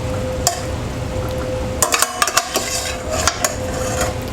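Vegetables with hoisin sauce are stirred in a pan, giving a soft sizzle broken by a cluster of sharp clinks and scrapes of a utensil against the pan, close and loud, with no talking.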